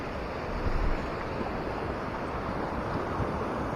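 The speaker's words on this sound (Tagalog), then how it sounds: "Payapa ang dagat ngayon, kalmado, wala namang bagyo." Calm sea washing steadily against the shore on a day without storms, a continuous soft broadband rush mixed with light wind buffeting the microphone, with no voices.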